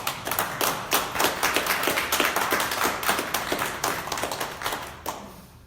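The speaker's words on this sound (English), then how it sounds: "You can clap." An audience at an awards press conference applauds after a company is named for industry leadership, a moderately loud run of clapping with distinct hand claps that fades at the end.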